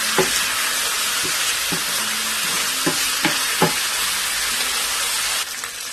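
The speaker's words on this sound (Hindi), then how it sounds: "चिकन को मैं थोड़ा सा फ्राई करूँगी, यहाँ तक इसका कलर चेंज हो जाए और हल्का सा लाइट ब्राउन हो जाए।" Chicken fries in a pan with a steady loud sizzle while a spoon stirs it, giving several distinct scraping knocks.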